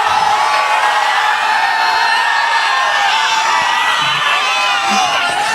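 A large crowd roars and cheers continuously at a Priyanka Gandhi political rally in Madhubani, Bihar, a dense, loud wash of voices held steady throughout.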